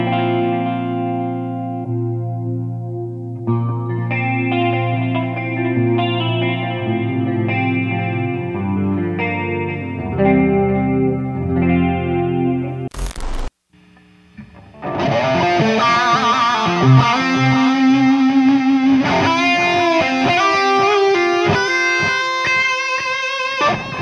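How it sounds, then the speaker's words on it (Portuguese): Electric guitar played through a Zoom MS70CDR multi-effect pedal with chorus, delay and reverb: shimmering sustained chords, a sudden brief cutout, then brighter, busier picked notes trailing echoes and wash, loud and alone. "utilizei o Zoom MS70 CDR, que é uma pedaleira multi-efeito da Zoom, pequenininha, dedicada somente para efeitos de chorus, delay e reverb"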